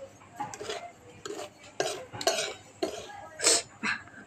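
Semolina (rava) roasting in a pan while being stirred with a spoon, giving a series of short scraping and clinking strokes at an irregular pace, with coughing and faint voices in the background.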